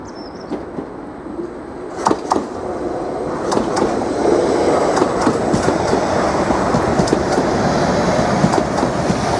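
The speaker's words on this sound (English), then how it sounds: "745002 has arrived into platform 1 from London Liverpool Street." Class 745 unit 745002 running through Norwich station on arrival from London Liverpool Street, loud steady rumble with clicking wheel beats and sharp clanks, no voices.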